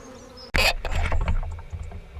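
Honeybees buzz at a six-frame nucleus hive in trouble at Newport. A sudden close burst is followed by a loud, sustained droning hum with passing buzzes.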